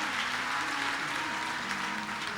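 An audience at a Ram Katha religious discourse claps together in a steady, dense ripple of hands, moderately loud, with faint musical tones sustained underneath.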